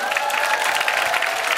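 A church congregation at an indoor gathering claps together in a brief, dense burst of applause, a continuous crowd-wide patter with no pauses.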